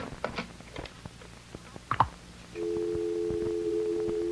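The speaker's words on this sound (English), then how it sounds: "It's just a dial tone." A telephone dial tone starts partway through and holds steady and continuous on the line. Before it come a few clicks and handling noises as the receiver is picked up. No talking.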